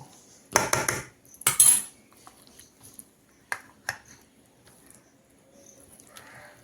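Chicken for chicken chaap is worked by hand in a bowl with Kashmiri chili powder and turmeric, giving two loud clattering bursts of metal utensil contact, then sparse soft clinks and wet squishes, close and quiet.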